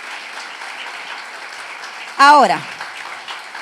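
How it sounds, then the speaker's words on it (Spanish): Congregation applauding at a Spanish-language church service, a steady wash of clapping that continues while a single spoken word rises briefly above it. "Dale un aplauso al Señor."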